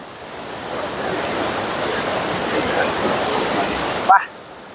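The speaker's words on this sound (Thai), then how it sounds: "เป็น น้ำไหลกระทบก้อนหินนะฮะ" Water flows and splashes steadily against rocks, a continuous broad rushing wash close to the microphone with some wind buffeting, then cutting off abruptly near the end.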